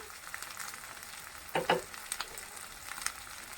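Spices such as coriander powder and turmeric frying in a pan for a vegetarian potato paneer dish, a soft steady sizzle with a few brief louder stirring scrapes in the middle, no talking.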